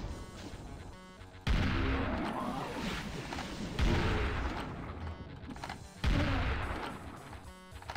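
In the Doom II video game, a super shotgun fires three heavy booming blasts about two seconds apart, each decaying slowly into the game's background sound.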